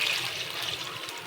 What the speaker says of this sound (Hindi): अदरक लहसुन हमारा थोड़ा सा पक गया है, मैं इसमें डायरेक्ट पानी ऐड करूंगी।